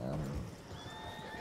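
A horse whinnies in Red Dead Redemption 2, a short wavering neigh heard faintly under game ambience and someone talking.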